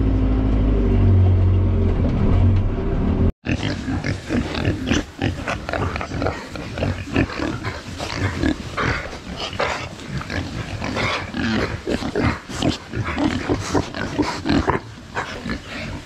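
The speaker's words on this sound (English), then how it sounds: "New batch of pigs in." A crowd of pigs, some coughing, grunting and squealing nonstop, close and busy, after a brief different low sound that cuts off abruptly.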